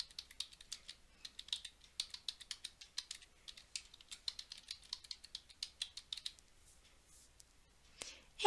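Keys clatter on a computer keyboard as an email address is typed, in quiet, irregular bursts of clicks close to the microphone, with no voices, ending in a louder knock.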